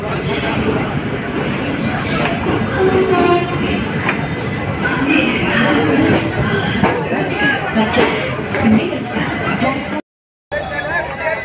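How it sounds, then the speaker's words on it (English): A busy platform at New Delhi railway station, with a steady wash of crowd noise, rumbling trains and occasional wheel squeal filling the whole stretch, and people talking throughout. "So this is the New Delhi railway station."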